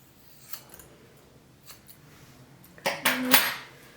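Scissors snip through hair during a DIY short trim, a few faint isolated cuts followed by a louder cluster of close, crisp snips near the end, with no talking.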